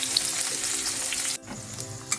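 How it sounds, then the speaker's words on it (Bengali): Onions frying in a pan for a dhaba-style egg tadka: a dense, continuous close sizzle that briefly dips near the middle, then crackles on, with no voices. "অর্ধেকটা পেঁয়াজ আমি এতে ভেজে নেব"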